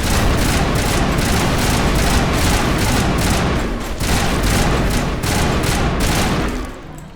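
Rapid assault rifle fire in the Mass Effect video game, loud close bursts of repeated shots in a fast rhythm over dense battle noise, tapering off near the end.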